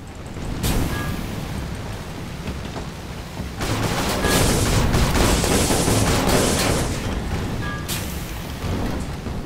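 Heavy ship guns firing in the video game Guns of Icarus Online, loud booming blasts blending into a dense, rumbling barrage that swells and holds, with no talk over it.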